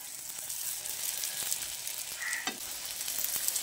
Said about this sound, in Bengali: এবার এক একটা টিফিন বা নাস্তা এভাবে তেলের মধ্যে দিয়ে দিচ্ছি।